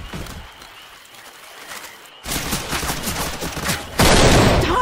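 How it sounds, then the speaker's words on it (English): Gunfire in the zombie shooter Left 4 Dead 2, rapid bursts of shots that start quiet and turn loud and dense partway through, with a further jump in volume near the end. "Stop shooting me."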